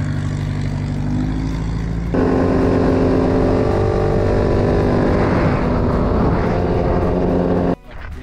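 Dirt bikes ride past at a mountain fly-in near hot springs, a loud, close, sustained engine drone that jumps up in intensity partway through, then cuts off abruptly near the end.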